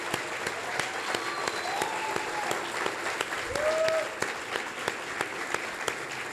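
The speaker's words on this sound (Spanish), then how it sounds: "Yo en este momento quiero parar para darle un aplauso a Federico" Applause for photographer Federico Ríos, steady clapping from a small group throughout with a few whistles, a voice briefly heard over it.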